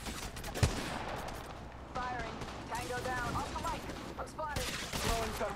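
Gunfire in the mobile battle royale game Apex Legends Mobile, with bursts of shots popping throughout alongside in-game effects and a voice talking over the action.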